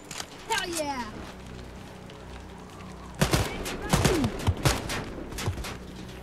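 Gunfire in Wolfenstein: Youngblood from a raised position upstairs: scattered sharp shots, then a dense cluster of cracks from about 3 seconds on, over a low game hum with a few brief whistling tones.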